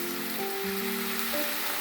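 Constant crackling sizzle of hard onion frying in a pan, steady and close, with faint tonal hums beneath and no speech.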